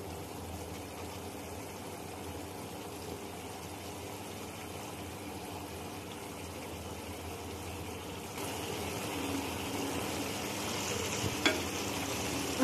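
Egg masala curry bubbles and sizzles steadily in a pan as cut boiled eggs are added, a continuous close frying hiss that grows slightly louder near the end with a brief clink.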